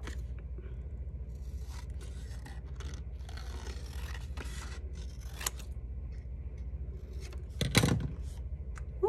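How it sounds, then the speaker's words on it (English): Scissors snip through paper while a school shape is cut out for a community map collage, a steady close scraping and snipping under a low room hum, with a sharper louder cut near the end. "I'm gonna cut out the school and add it to our picture."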